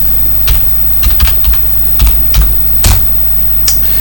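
A command being typed on a computer keyboard, with close, crisp key clicks in uneven bursts and short pauses, over a low steady hum, no talk.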